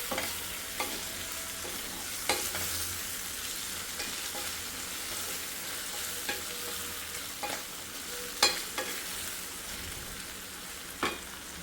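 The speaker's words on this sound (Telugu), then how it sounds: "బాగా ఫ్రై అవనిద్దాం ఇది." Cashews fry in a pan with salt and chilli powder for butter chicken, giving a steady close sizzle with occasional spatula scrapes and taps, no talking.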